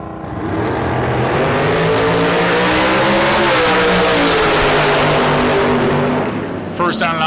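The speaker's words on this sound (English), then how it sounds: "First on and off the throttle was Archer, as both drivers are too quick for their dial-ins" Drag racing cars launching down the strip at a spring bracket-racing event, a loud, sustained engine roar that rises in pitch and fills the whole stretch before dropping away; an announcer speaks over it.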